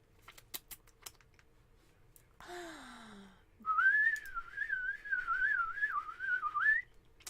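A woman whistles a wavering, warbling tune imitating birdsong, close and fairly loud for several seconds, preceded by a brief sliding whistle and faint tapping clicks.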